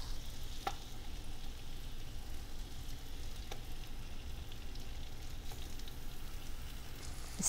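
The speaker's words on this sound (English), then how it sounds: "let's add in our plantains, one at a time. Place them right into the pan." Plantains fry in melted butter in a pan, giving a soft, continuous sizzle with a few faint clicks and taps, fairly quiet and close.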